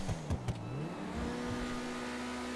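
Turismo Classic car in GTA 5 Online revving hard and driving fast, its engine note rising and dipping through gear changes, close and steady, with a few sharp knocks at the start.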